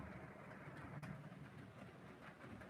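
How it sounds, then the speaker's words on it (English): Model train running on an indoor layout track, a low, steady rolling rumble with a faint rhythmic clatter and one sharp click, quiet and continuous. "Well, just that one train running."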